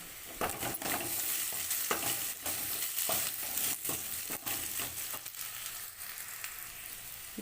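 Garlic and curry leaves sizzle in a pan for a vegazhakkai (raw banana) fry, with steady frying hiss and repeated scraping clicks of a spoon stirring, fairly close and without talk.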